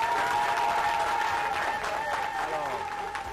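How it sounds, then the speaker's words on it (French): An audience applauds during a televised official event, a broad, continuous ripple of clapping that sits under a voice speaking or calling out and stays fairly distant and moderate in level. "nous devons applaudir au chef de l'État."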